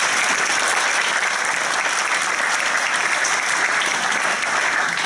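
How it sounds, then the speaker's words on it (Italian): An audience at a national political assembly in Rome breaks into sustained, even applause that fills the room for about five seconds, with no speech over it. "Facciamo un applauso per questo."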